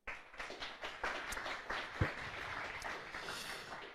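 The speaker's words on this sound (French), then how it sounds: "On l'applaudit." A small audience at an artificial intelligence tech meetup claps for a speaker after his session: sparse, uneven hand claps, faint and roomy, with one sharper clap partway through.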